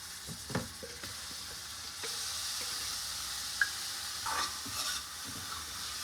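Grated ginger, garlic and shallots sizzle and fry steadily in coconut oil with occasional stirring clinks, a close, continuous hiss for a Kerala Alleppey fish curry.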